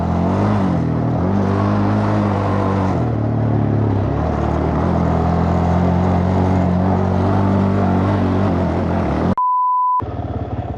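A Suzuki LTZ 400 quad held in second gear, engine buzzing loud and close at high revs with pitch rising and dipping as the throttle shifts, then a brief cut near the end.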